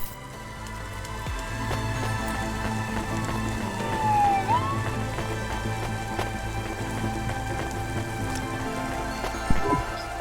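Steady rainfall in the Cloudpunk video game hisses evenly throughout, with a faint siren-like tone sweeping briefly in the background and a small knock near the end.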